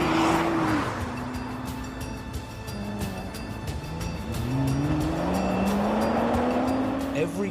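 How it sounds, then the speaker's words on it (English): Nissan GT-R driven hard around a test track, engine note rising and falling through gear changes as the car accelerates and sweeps past with a rough, loud roar and a whooshing passing rush. "a team of 10 test drivers thrash 25 GT-Rs around this test track"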